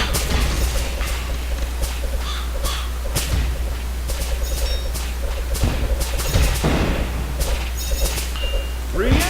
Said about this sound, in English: Like how the explosion slows them down for the briefest of seconds, too.